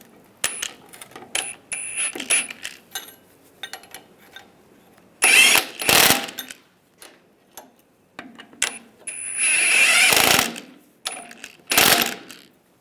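A power tool snugs down nuts on a 2007-2013 Chevrolet Silverado 1500 stub shaft, with loud bursts of whirring and ratcheting close by, separated by short pauses and clicks of tools being handled.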